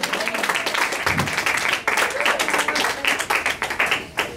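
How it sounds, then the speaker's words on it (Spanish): A church congregation applauds during a Sunday retreat service, a dense wash of clapping hands that holds steady and fairly loud throughout, with faint voices mixed in. "Dale un aplauso a Cristo que él vive."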